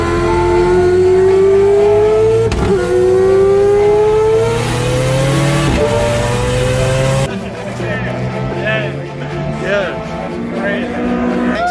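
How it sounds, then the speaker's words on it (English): A four-rotor Mazda RX7 race car engine screams loudly and close on a shakedown, climbing through repeated high revs with gear changes, then dropping to a rougher, lower drone with voices over it. "This is my 4-rotor Mazda Rx7."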